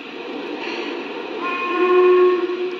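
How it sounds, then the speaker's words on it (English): A Lionel Vision Line Pennsylvania Class A model train steam whistle blows steadily, its chord swelling louder partway through and holding strong before easing slightly at the end. No voices. "This one sounds like maybe it's a Challenger whistle"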